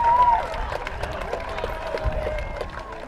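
A crowd at a Central Hawke's Bay versus Wairoa rugby match cheers and applauds. The broad, distant roar stays fairly even under a commentator's voice.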